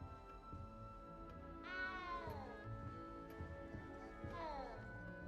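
Cat in Hogwarts Legacy gives two clear meows with falling pitch, spaced a few seconds apart over a low game soundscape.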